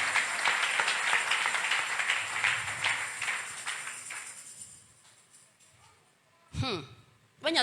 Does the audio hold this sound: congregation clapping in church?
yes